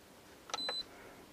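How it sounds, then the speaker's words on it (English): A DeLonghi Distinta digital kettle base gives two short, faint electronic beeps in quick succession as it switches on, against a quiet room background with no voices. "Oh, it beeps at you, check that out."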